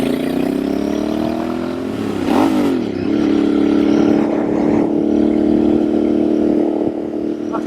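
Royal Enfield Bear 650 motorcycle with a high-mounted shotgun exhaust, ridden out of town in light wind: a close, continuous engine drone that dips and swells briefly with a shift or throttle change, then settles into a steady, even cruise.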